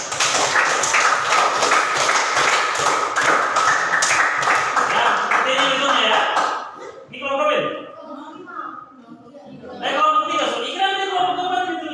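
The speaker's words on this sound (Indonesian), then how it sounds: "Tepuk tangan." Classroom applause for group 4, a dense burst of many hands clapping that lasts about six seconds, then fades into voices talking.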